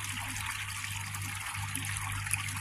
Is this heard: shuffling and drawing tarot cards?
no